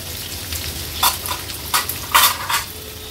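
Finely chopped large onion fries in oil with cumin, mustard seeds, curry leaves and asafoetida, a soft steady sizzle broken by several sharp scraping stirs of a spoon against the pan.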